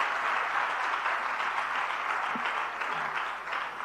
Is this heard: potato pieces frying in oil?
no